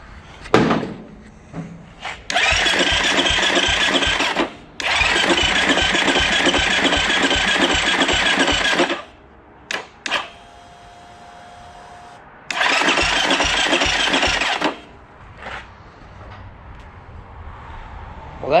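A Honda CT70 motorcycle engine cranks over and over in several long bursts of rapid, rhythmic churning but never fires, with short pauses and clunks between attempts, heard up close.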